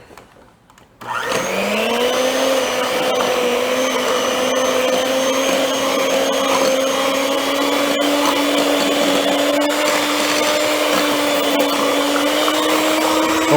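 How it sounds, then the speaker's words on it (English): An electric hand mixer starts up and runs steadily, beating eggs into pecan pie filling. A loud, continuous motor whine holds an even pitch throughout, with no voices. "Next, I'm going to take my beater, my blender here, mixer."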